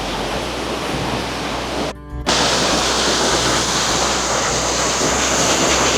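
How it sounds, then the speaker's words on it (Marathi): A hidden waterfall near Timure village by the Nepal-China border sends up a loud, steady rushing roar, cut off by a short dropout before it resumes unchanged. "किती सुंदर धबधबा आहे बघा."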